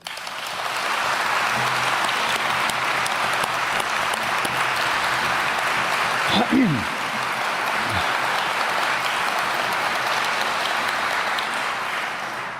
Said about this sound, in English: give a big round of applause to the most transformative city council that San Antonio has ever